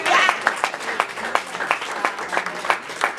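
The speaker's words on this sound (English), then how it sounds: "clap hands" An audience at an evening author event claps in a sparse, uneven patter with one burst of applause at the start, mixed with faint voices.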